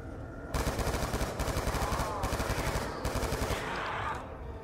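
Rapid automatic gunfire from a weapon in Call of Duty Black Ops 2 Zombies, solo on Nuketown, rattles in sustained bursts with short gaps, loud and close, alongside game effects.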